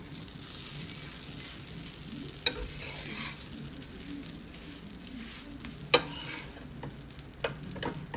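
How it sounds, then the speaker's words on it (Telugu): Onion pesarattu, a moong dal dosa, roasts on a pan over high flame with a steady close sizzle, broken by a few sharp clicks and taps of a utensil. "ఇప్పుడు హై ఫ్లేమ్లో పెట్టి బాగా ఎర్రగా కాల్చుకుంటే ఉల్లి పెసరట్టు రెడీ"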